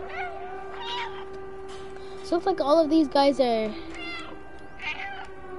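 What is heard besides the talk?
cat meowing in a video game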